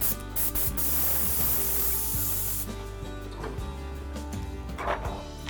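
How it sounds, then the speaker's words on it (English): Continuous airbrush spraying paint onto an animation cel with a steady hiss, loud and close, easing to quieter intermittent bursts midway with faint scraping handling noises. "and we start spraying."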